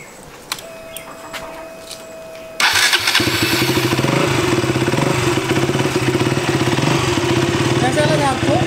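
A KTM Duke 200 motorcycle stays silent, then its engine catches with a sudden start and settles into a loud, steady idle with a rapid, even pulse, recorded up close.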